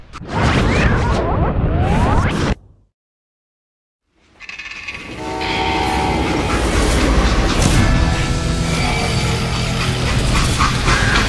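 Loud rumbling and clattering of a freight train in motion in the video game Call of Juarez: Gunslinger, with a brief silent gap before the heavy mechanical noise resumes and runs steadily.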